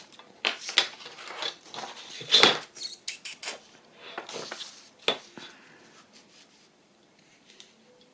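Scissors cutting paper for a handmade journal envelope, close crisp snips and rustles in a few quick bursts that thin out toward the end.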